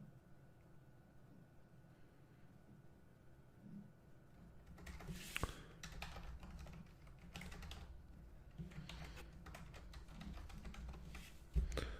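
A password being typed on a computer keyboard during account setup: a few seconds of near silence, then soft, close key taps in a steady run.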